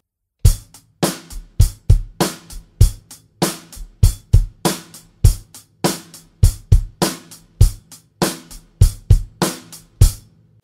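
A rock drum groove played alone, with punchy kick and snare hits in a steady, even rhythm alongside crisp cymbal strikes, close and clear.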